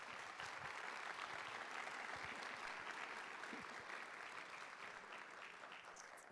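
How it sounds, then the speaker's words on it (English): Audience at a teacher of the year awards ceremony applauding an education board president, a dense continuous roar of many hands clapping in a large room, steady and slowly fading. "Let's give her a round of applause."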